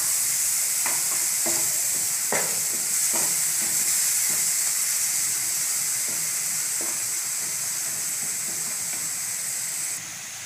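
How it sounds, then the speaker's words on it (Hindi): Onion paste frying on a low flame in a pan for a Bengali curd and pointed gourd dish, with a steady hiss of sizzling throughout and occasional soft scrapes of stirring, ending slightly quieter. "प्याज को लो फ्लेम में थोड़ा सा भून ले दे।"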